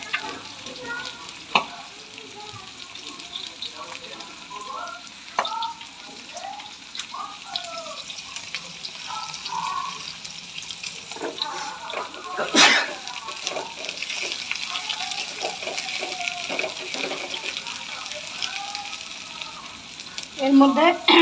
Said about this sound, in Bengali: এর মধ্যে আদা রসুন দিয়ে আমি ভালো করে নেড়ে চেড়ে নিলাম